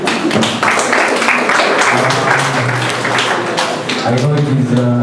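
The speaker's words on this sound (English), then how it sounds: "a round of applause to them again" An audience at a youth entrepreneurship centre launch gives a loud round of applause. Dense, continuous clapping fills the room, with voices talking over it.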